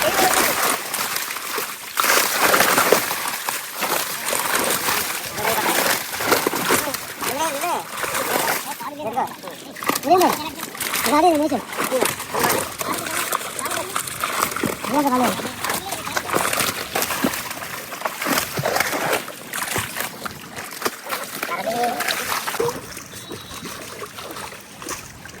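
Large fish thrash and splash continuously in a pond at Tuni, making a dense, busy churn of water close by for the whole stretch. People talk over the splashing throughout.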